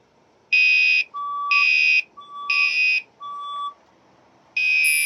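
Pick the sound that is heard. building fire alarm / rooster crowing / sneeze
building fire alarm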